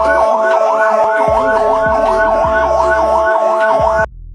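An ambulance carrying an emergency patient along a main road sounds a loud, rapid rising-and-falling siren wail that repeats steadily, with low engine tones beneath, before cutting off abruptly near the end.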